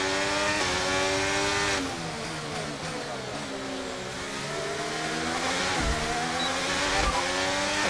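A race car engine in F1 23 holds near top speed with a loud, steady high-pitched whine. Its pitch sags and then climbs again as it shifts, with a few low thumps near the end and no talking.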